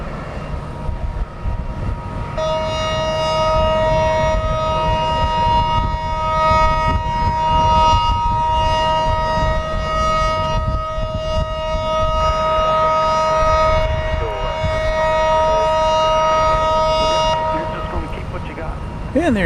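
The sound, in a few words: warning siren at Dallas Love Field airport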